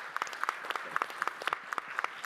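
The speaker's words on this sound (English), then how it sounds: "You guys can applaud that." Scattered clapping from a small audience at an SXSW 2024 panel talk, irregular sharp claps repeating steadily for a couple of seconds, fairly light and close.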